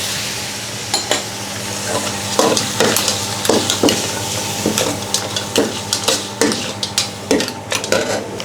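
Seafood and garlic cloves stir-fry in a hot pan: a constant loud sizzle broken by regular sharp scrapes and clanks of a utensil against the metal, close up.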